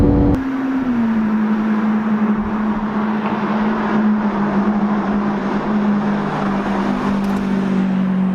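A Lamborghini Aventador's naturally aspirated V12 hums in a loud, steady drone whose pitch dips slightly at the start and then holds level throughout, with no talking.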